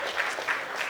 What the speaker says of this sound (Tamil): ப்ளீஸ் கொஞ்சம் கை தட்டிருங்க